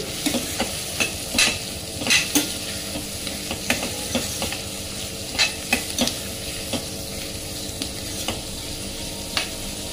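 Beetroot fry being stirred in a pan, with repeated scraping and clinking strokes of a spoon over a steady background sizzle, close and moderately loud, no talking.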